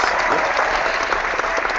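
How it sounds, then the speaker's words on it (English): Loud, dense applause from a crowd fills a comic book podcast segment, a continuous close clatter of many hands with no pauses. "Waiting for the applause."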